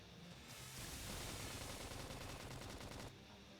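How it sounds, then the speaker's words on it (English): Dense, sustained gunfire in a Xenoblade X Definitive Edition battle, rapid crackling shots blending into a loud continuous burst for about two and a half seconds, with no voices over it. "Now, cover them with some gunfire."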